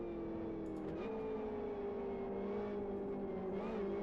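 Classic Mini Cup race cars in the Live for Speed racing game, a steady droning engine tone that shifts pitch as revs change, continuous and moderately loud with no talking.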